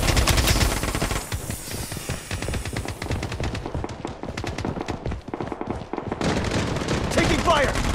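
Rapid automatic gunfire in the game Blood Strike, a dense stream of close, loud shots that thins briefly midway and then picks up again, with a game voice speaking over it.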